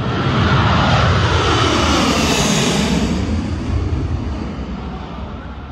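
An airplane engine at Kabul airport roars loud and close in a steady, dense wash of noise that slowly fades slightly toward the end.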